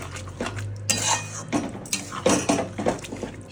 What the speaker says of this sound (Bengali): এবার মিশিয়ে নেবো ভালো করে